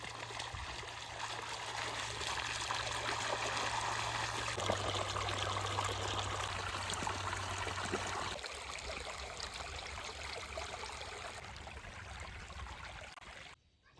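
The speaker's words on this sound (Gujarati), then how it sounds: "અત્યારે સણ્યામાં પાણી પાવાનું કામ ચાલુ છે અને સણ્યામાં પાણી જાય છે." Irrigation water running into a farm field channel, a steady close trickling and gurgling flow with a low hum underneath that shifts partway through, then stops abruptly at the end.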